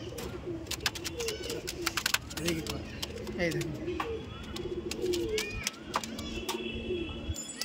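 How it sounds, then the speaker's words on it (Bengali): Pigeons coo in low, throaty repeated phrases from a loft of standing pigeons, mixed with sharp chirps and someone talking over them. "দেখুন পায়রাগুলো দেখুন।"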